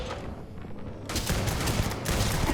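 Sustained automatic gunfire during a firefight in the space game Starfield, with a brief quieter gap before loud, rapid continuous shots resume and fill the rest of the moment.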